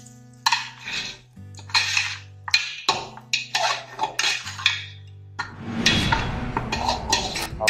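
A spoon scrapes and knocks against a pot while mutton is stir-fried with turmeric, coriander powder, kitchen king masala and salt, in repeated metallic bursts that give way to a louder sizzling stretch near the end.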